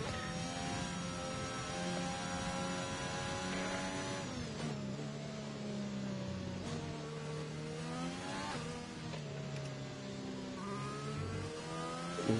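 A race car engine in a racing video game drones steadily at high revs, with its pitch rising and dropping through gear changes as the car laps the track, loud and continuous with no voices.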